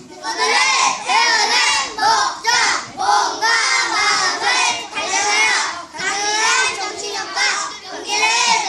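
A taekwondo class of children shouts loudly in unison, bursts of many young voices in strong, rhythmic phrases separated by short breaths, filling the room at close range.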